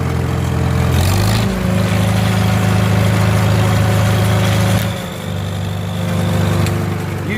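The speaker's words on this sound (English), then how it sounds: "I got the H out today. H Turbo, you asked how it sounds?" A Farmall H Turbo tractor engine idles outdoors on a cool February day, a loud, steady low rumble that dips briefly in pitch and level before settling back to an even chug.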